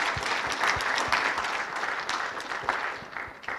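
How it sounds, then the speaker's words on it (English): An audience at a gynecology and obstetrics scientific conference applauds its panel, a steady, even patter of many hands at moderate distance that holds throughout. "Give them a round of applause."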